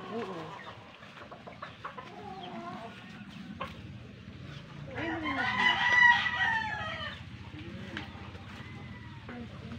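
Chickens cluck and a rooster crows loudly midway, with scattered bird calls around them and people talking nearby.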